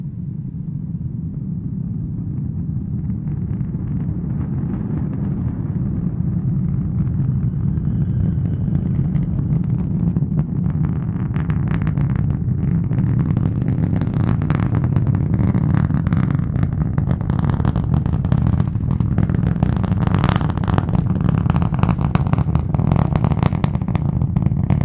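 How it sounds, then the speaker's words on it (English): A SpaceX Falcon 9 rocket lifting off at sunrise from Cape Canaveral Space Force Station on a Starlink mission, a loud, continuous deep rumble that swells and turns crackling as it climbs, with no voices. "Liftoff of the Falcon 9 rocket on the Starlink 10-56 mission"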